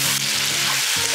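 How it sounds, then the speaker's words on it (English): Chicken masala frying in a pan with turmeric, coriander powder and salt, sizzling loudly and steadily as a spoon stirs it, with a few scraping strokes and no talking. "Give it a stir."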